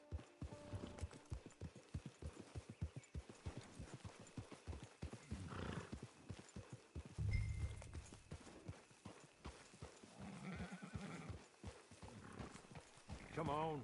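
Horse hooves clip-clopping at a steady walking rhythm in the video game Red Dead Online, with a whinny partway through, set against quiet ambience while voices talk at intervals.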